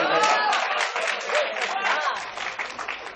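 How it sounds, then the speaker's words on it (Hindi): An audience at a Hindi kavi sammelan poetry gathering in Surat claps in steady, loud applause that continues throughout, with a few cheers mixed in. "एक बार जोरदार तालियां आज भाई के लिए होनी चाहिए"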